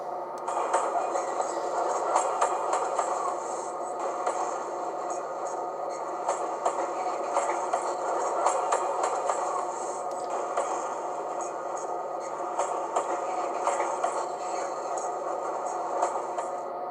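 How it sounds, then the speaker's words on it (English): Rail clack effect from a Dapol Class 68 model locomotive sound decoder on a garage model layout, a steady rolling clatter of rhythmic wheel-on-joint clicks running continuously at even loudness with no talk. "F15 is the rail clack sound."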